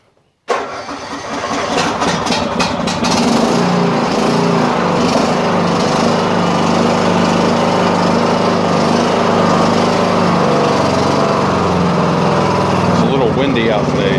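A Cub Cadet XT1 Enduro riding lawn mower's 18 hp engine cranks and catches, then settles into a loud, steady running drone with wind buffeting nearby.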